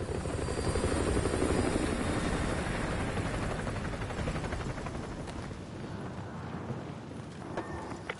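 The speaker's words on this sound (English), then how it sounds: "Enemy helo patrolling the perimeter." An enemy helicopter patrols in Call of Duty Modern Warfare 2, its rotor thumping in a steady rapid chop that stays loud and close throughout, slowly easing slightly toward the end.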